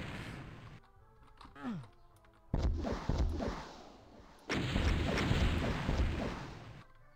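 Rocket launcher fire in Ultimate Doom: loud broadband blasts that swell and decay, with a sustained roaring burst of explosions in the second half and no voices.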